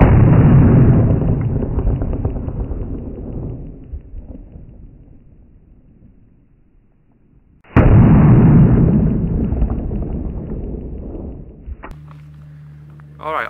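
Two loud, close handgun shots from a 10mm and a .357 Magnum fired into ballistic gel boom out several seconds apart, each followed by a long rolling echo, with brief talk afterward.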